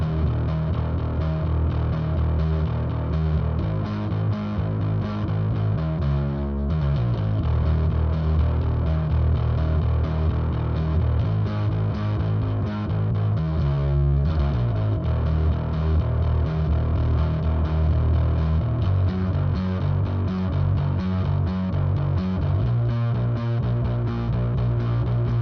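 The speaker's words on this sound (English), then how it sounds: "on the high loop, you'll hear more mid-range frequencies running into the distortion as the knob turns counterclockwise" A guitar distortion pedal with a crossover range control, its knob turned counterclockwise so more mid-range runs into the distortion: a sustained, buzzing distorted guitar tone, steady and loud throughout with a few brief shifts in texture.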